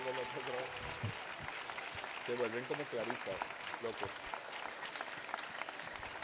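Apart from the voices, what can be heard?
school anniversary audience applause for the little ones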